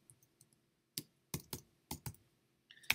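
Keys on a computer keyboard are struck in a short irregular run of sharp clicks, close and quiet against a near-silent room, with a quick cluster of taps at the end.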